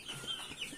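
A young rooster gives soft, quick clucks, faint and close, a few short calls in a row over a quiet background.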